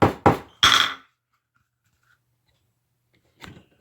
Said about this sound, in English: Hammer that stitching down.